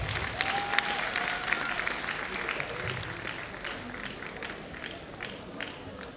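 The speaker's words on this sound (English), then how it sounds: "Please give them a resounding round of applause." An audience applauds at a university celebration, a broad steady wash of clapping with a brief whistle and some faint voices mixed in, fading slightly over about six seconds.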